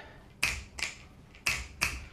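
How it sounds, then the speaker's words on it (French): Four crisp finger snaps ring out close and clear behind a fashion show, spaced in two pairs with a brief gap between them, with no voices. "les bruits de claquements de doigts, que ça se mélange aussi avec les bruits des chaussures"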